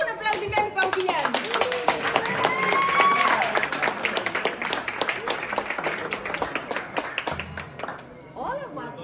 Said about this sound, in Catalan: Un aplaudiment pel Guillem.